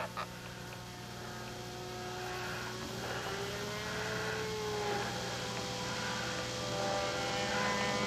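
Graupner Electric Skimmer RC electric sailplane flying high overhead, a steady thin motor drone with faint pitch shifts as it moves, continuous and fairly distant under outdoor ambience.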